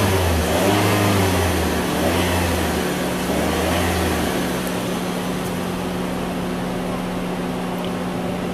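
Car engine revving while an ELM327 OBD2 WiFi adapter logs the revs, with a low repeating engine throb rising and falling in the first seconds before settling into a steady idle hum with a constant tone.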